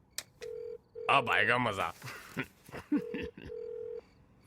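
A telephone on speaker plays steady dialing and ringback tones, two long tone bursts separated by a short gap, while someone talks loudly over the middle of the call.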